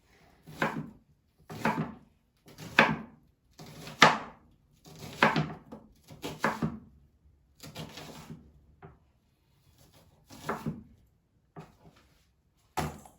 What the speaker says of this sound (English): as soon as I get this stupid skin off, then we'll start slicing